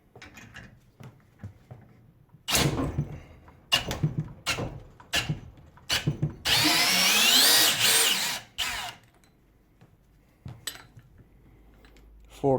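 A Milwaukee FPD3 percussion drill, tested against a Parkside Performance impact drill, works to unscrew a screw, with several short clicks and bursts, then a loud sustained whirring run of about two seconds, followed by a few more knocks.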